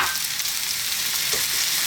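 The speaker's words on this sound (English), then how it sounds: "You want to be frying the rice." Eggs and rice frying in a pan for chicken fried rice, a steady close sizzle with faint stirring, no talk.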